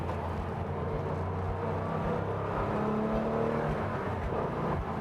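A 1967 Porsche 911R tribute engine revving hard through second and third gear on a road drive, a loud continuous roar with rising pitch and brief dips at the gear changes, heard close from inside the car.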